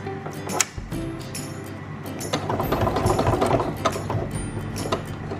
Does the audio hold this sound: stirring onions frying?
no